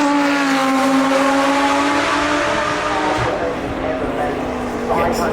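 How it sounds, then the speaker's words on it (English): Lamborghini Sesto Elemento pulling away from the start line of a hillclimb, its loud engine note holding steady harmonics and sliding slightly in pitch, with a commentator talking over it throughout. "The start line sending off is the Lamborghini Sesto Elemento"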